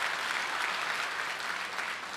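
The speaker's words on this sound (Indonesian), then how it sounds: "Tepuk tangan buat jemaat di tempat ini." A church congregation applauds during a sermon, a steady wash of clapping from many hands that stays loud and even throughout, with no voice over it.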